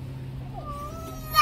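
A cat gives a short, faint meow with a rising then falling pitch, alone against quiet background hum.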